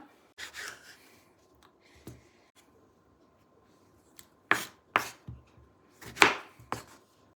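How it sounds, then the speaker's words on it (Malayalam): Three tomatoes being sliced with a knife on a cutting board, heard as a few isolated soft taps at first, then sharper close chops in quick pairs and clusters, with no talk. "ഇവിടെ 3 തക്കാളിക്ക എടുത്തിട്ടുണ്ട്. ഇത് നമുക്കൊന്ന് അരിഞ്ഞെടുക്കാം."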